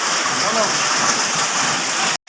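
Summer rain pours steadily in a dense, even hiss close by, continuous throughout before cutting off abruptly near the end.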